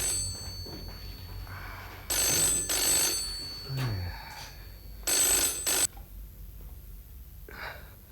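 A telephone rings in two loud bursts separated by a pause, with faint breathing and room noise in between.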